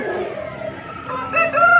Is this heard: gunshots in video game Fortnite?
no